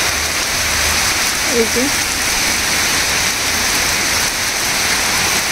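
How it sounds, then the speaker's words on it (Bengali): Heavy rain from a Kalbaishakhi storm pours down in a steady, loud hiss that fills the whole stretch, with a brief voice heard over it. "বাতাস অল্প সময় 5-6 মিনিট বাতাস হওয়ার পরেই এই বৃষ্টি শুরু হয়েছে।"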